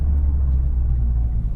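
A Mitsubishi Evo X with a cold engine drives gently up a road, giving a steady, loud low rumble from inside the car with no speech.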